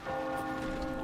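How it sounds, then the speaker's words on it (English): A bell rings in the video game Fire Emblem Engage, a sustained tolling tone with rich ringing overtones, steady and fairly loud throughout the short moment. "The bell's ringing!"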